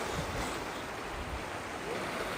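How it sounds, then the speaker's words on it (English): Steady broadband rush of ocean water heard from a kayak on Trinidad Bay, California, a continuous close wash of surf and moving water with faint wind and no voices. "the sound of the water is making you want to pee"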